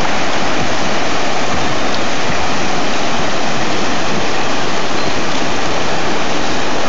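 Loud, steady roar of rushing river rapids on the Grand River, broadband and close, with constant churning white water and no pauses or talking.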